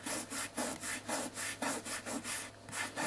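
Fingertip rubbing chalk in circular motions on a miniature landscape board, a steady rhythmic scratchy rasping that repeats about twice a second, close and alone.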